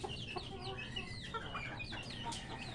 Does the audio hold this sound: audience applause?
no